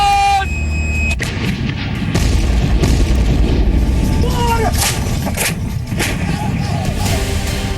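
Indian Army artillery guns fire across the Line of Control, sharp booms breaking through a constant roar of noise while a voice talks over it.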